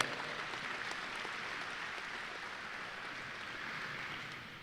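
Sustained clapping from a banquet audience at a transportation safety awards dinner, an even wash of applause from a moderately distant crowd that holds steady before tapering slightly at the close.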